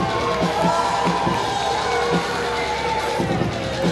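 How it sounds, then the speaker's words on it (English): A crowd at a local wrestling fundraiser in a dome-style venue roars and cheers continuously, loud and close, with shouts and whoops poking through the steady din. "We have a great crowd here at the Wonderdome."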